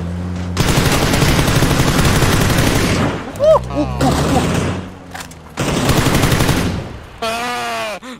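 Loud automatic gunfire in a video game, long sustained bursts of rapid shots separated by brief pauses, with chirping game effects between bursts and no talking.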